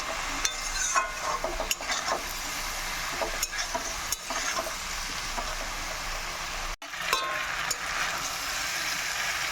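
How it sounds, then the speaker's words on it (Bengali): Spice paste is stir-fried with a little water in a pan for a fish-head mixed-vegetable dish. A continuous close sizzle runs throughout, broken by sharp scraping and clinking stirring strokes and one brief dip. No talking. "একটু জল দিয়ে আমি মশলাটাকে ভালো করে একটু কষিয়ে নেব"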